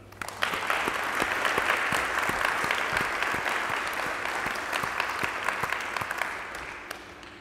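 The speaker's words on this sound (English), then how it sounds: "can we please give another round of applause to our keynote speakers and our startups" Audience at a Transport for Wales demo day applauds keynote speakers and startups, a steady wash of many hands clapping throughout, fairly even in level with no talk over it.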